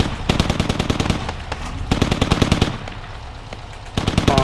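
Sustained automatic rifle fire in the military shooter Squad: loud, close, rapid rattling bursts with brief breaks between them.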